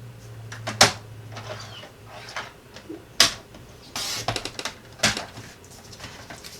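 A paper card piece for a card in a box is trimmed out, with a few sharp, crisp cuts spaced a couple of seconds apart and light rustling of paper between them, close and quiet.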